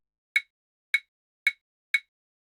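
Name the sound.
placeholder hit sound effects for a fight scene sequence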